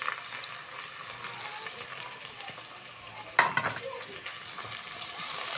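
Onions brown in a pan for matoke with beef as carrots and tomatoes are added and stirred in, a continuous close sizzle that surges loudly when the vegetables hit the oil.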